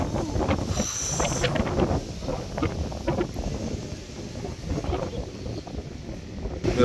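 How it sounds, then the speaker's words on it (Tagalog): Strong seaside wind buffets the microphone on a Nasugbu, Batangas coast, a loud continuous rumbling roar with gusts, while people talk faintly underneath. "Oh, lakas ang hangin."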